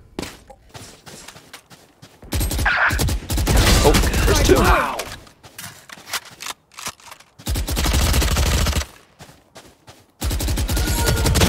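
Rapid automatic gunfire in the video game Valorant comes in several loud bursts separated by short gaps, mixed with quieter clicks and footsteps between them.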